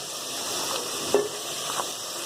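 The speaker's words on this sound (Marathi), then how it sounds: "बटाटा कांदा आणि डबू मिरची असं फ्राय करून घ्या" Potato, onion and capsicum fry in a wide, shallow pan with a steady, moderate sizzle and hiss, broken once by a brief stirring scrape near the middle.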